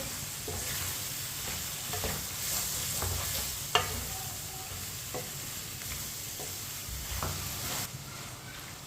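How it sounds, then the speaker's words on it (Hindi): Tinda (Indian round gourd) cooking on a lowered flame while a spoon stirs it, steady soft sizzle with scattered scraping clicks of the spoon, one sharper knock near the middle, no voices. "इसे चम्मच चलाते हुए पकाना है 3 मिनट के लिए"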